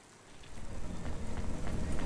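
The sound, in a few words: rain in the video game Cloud Punk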